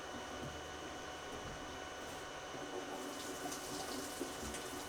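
Gasoline poured into a car's fuel tank spills out of a disconnected filler neck, making a faint, continuous splashing and trickling of liquid throughout.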